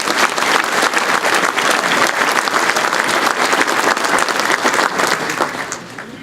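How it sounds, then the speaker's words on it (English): A big audience claps steadily and loudly at a track and field induction ceremony for the Missouri Sports Hall of Fame in Jefferson City, with a few cheers mixed in, before the applause fades out. "Let's give them another big round of applause."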